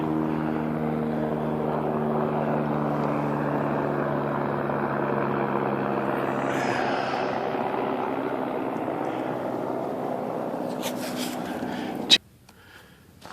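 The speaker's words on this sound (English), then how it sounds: "That's the heli skiers heading home at the end of the day." A helicopter carrying heli skiers flies home at day's end, its steady rotor drone heard at a distance for about twelve seconds before a sharp handling knock cuts it off.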